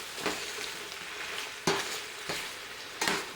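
Leftover pulled pork being stirred with mushrooms and melted mushroom butter in a hot pan, giving a soft continuous sizzle marked by several distinct scraping strokes, close and quiet with no talking.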